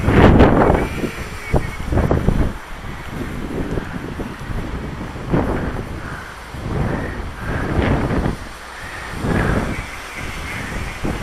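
Gusty wind buffeting outdoors in high wind, rising and falling in loud roaring surges that batter the microphone.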